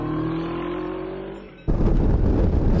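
A Moto Morini XCape 650 motorcycle with a 649 cc parallel-twin engine rumbles at a steady idle, then abruptly switches to a louder, rougher and denser close-up engine roar.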